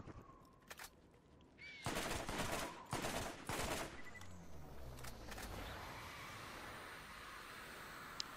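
Enemy gunfire in the video game Borderlands, loud bursts of rapid automatic shots cutting in around the middle, with scattered single shots before and a lingering hiss and mechanical whir afterward.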